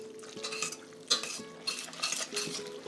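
Sauce stirred in a metal pan with a utensil, giving repeated close scrapes and clinks in an uneven rhythm, one sharper knock near the middle, with no talk.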